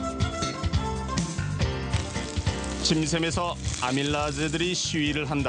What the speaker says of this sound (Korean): 지글거리는 저 소리는 나의 고문관이다.